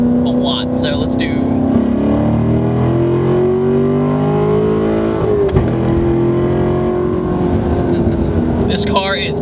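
A Corvette C7 Stingray engine drones loudly from inside the cabin, pitch climbing and shifting through gears as it revs, with a voice speaking over it.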